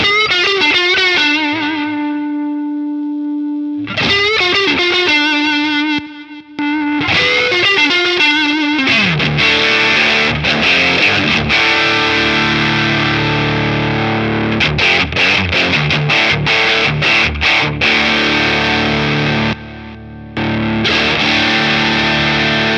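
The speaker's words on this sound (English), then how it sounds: "I'm going to bring back the drive on version 1." Electric guitar played through a Danelectro Cool Cat Drive V1 overdrive pedal, loud and close: sustained gritty notes and chords, then busier, heavily driven strumming with brief pauses, with no other sounds.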